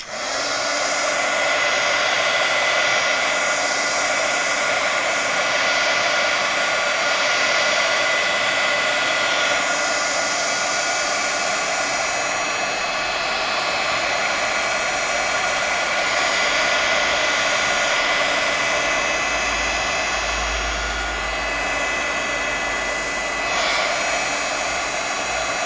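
A hair dryer blows steadily over wet paint on a mixed-media canvas, a loud, continuous airy roar with slight shifts in tone as it moves, running without pause.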